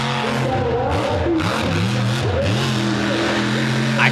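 A monster truck engine revs hard and continuously close by at a Charlotte, NC monster truck bash, its pitch sweeping up and down as the driver burns it down on a crippled truck, with crowd noise and an announcer's voice underneath.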